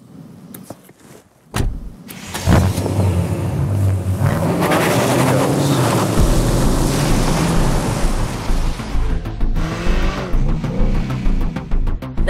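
A BMW 8 Series coupé with a 4.4-litre twin-turbo V8 petrol engine starts with a sharp burst, then a loud, sustained drone as it drives off, the engine note rising and easing toward the end.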